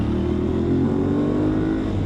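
An Aprilia Tuareg 660 motorcycle rides in second gear through traffic, its engine giving a steady, loud, continuous drone from start to finish.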